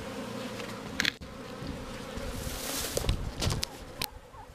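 A dense, continuous buzzing of many honeybees, nesting inside a wall, fills the air, with occasional louder passes and brief knocks or rustles nearby.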